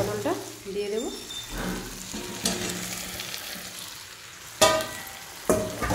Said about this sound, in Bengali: মাছের মাথাটাও ভালোভাবে কষানো হয়ে গেছে, এবার আমি এর মধ্যে আলু পটলটা দিয়ে দেবো।